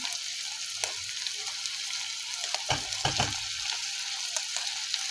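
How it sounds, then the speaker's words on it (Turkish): Onions, meat and tomato paste sauté in a pan, giving a steady bright sizzle with a few louder thumps and scrapes from stirring, close by. "Şimdi bunların hepsini birlikte sos kıvamı alana kadar kavuruyorum arkadaşlar"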